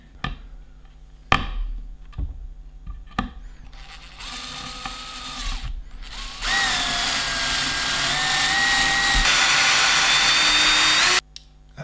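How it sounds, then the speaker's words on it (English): Power drill fitted with a thin bit boring a pilot hole into damaged flat pack furniture: a few short taps and bursts, then a long steady high whine of drilling lasting several seconds, close and fairly loud, before stopping abruptly. "I'm going to start with a much thinner drill bit just to get the hole started"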